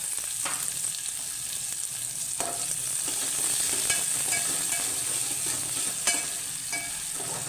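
Chilli and onion sauté in a pan for a Maharashtrian methi and moong dal bhaji, a steady close sizzle broken by several sharp scrapes and stirs of a spoon against the pan, with no talking.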